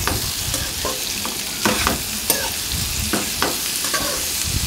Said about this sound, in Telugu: పొట్లకాయ ముక్కలు బాగా ఆయిల్ పట్టే విధంగా ఈ విధంగా గరిటతో కలిపేసుకోవాలి